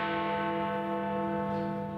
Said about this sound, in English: The distinctive chime of Big Ben is London's signature tune.